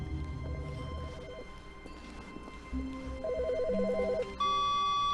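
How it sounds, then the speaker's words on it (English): A telephone rings in the video game The Stanley Parable, repeated electronic warbling bursts in a steady pattern over a hum of game ambience, with extra tones layering in toward the end. "phone's ringing."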